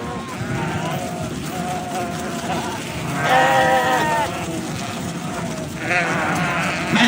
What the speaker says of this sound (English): It was a herd of sheep that were being herded down the road by a shepherd.